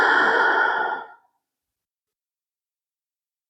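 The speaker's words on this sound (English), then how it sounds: "breathing in and out through the nose" A single long, audible exhale through the nose during a yoga session, close and breathy, fading out after about a second. Silence follows, with a faint breath sound at the very end.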